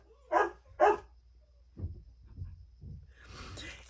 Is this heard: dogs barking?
yes